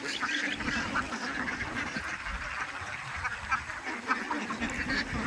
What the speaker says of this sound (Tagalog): Ayan po yung kanyang itik na alaga.